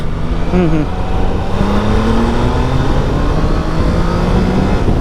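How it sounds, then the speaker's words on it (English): A Triumph Tiger Sport 660 with an inline three-cylinder engine runs loudly and close by, its steady drone shifting in pitch as the revs rise and settle. "However, the inline 3 sound is just maddening here."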